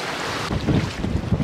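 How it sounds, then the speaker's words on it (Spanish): Strong wind buffets the microphone at a beach with rough, choppy sea under a red flag, producing a loud constant roar with gusty low rumbles. "no sé si me van a escuchar por el aire"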